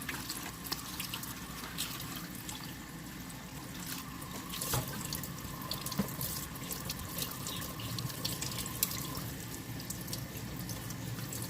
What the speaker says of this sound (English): So first off, you wash the salmon in water.